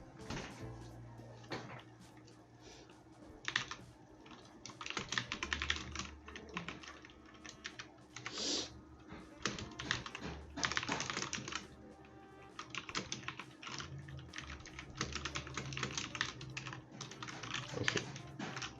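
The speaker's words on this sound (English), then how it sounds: "Transition to typing." Typing on a Gigaware Mnemonix mechanical keyboard, with close, clacky keystrokes arriving in quick bursts and short pauses throughout, no voices.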